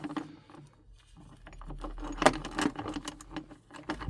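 A metal chain is handled and clipped onto a van door, giving clinking, jangling metallic rattles that peak in a bright clack midway, close, over a low background hum.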